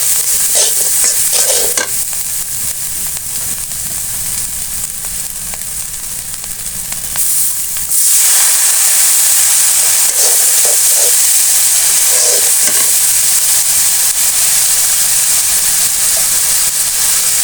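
Turmeric, chili and coriander powder with salt sizzle steadily in hot oil for an egg and bottle gourd curry, a continuous loud frying hiss with scraping stirs that briefly dips, then returns fuller.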